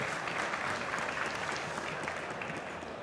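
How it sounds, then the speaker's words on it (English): A conference audience at the Slush 2023 startup pitch semifinals gives a steady round of applause, the dense clapping fairly soft and even throughout, heard from a slight distance. "Round of applause."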